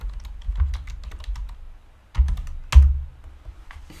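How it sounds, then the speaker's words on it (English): Keys clatter on a computer keyboard as a password is typed, a quick run of soft clicks that pauses briefly, then two louder, heavier keystrokes stand out near the end. "so let's type that in."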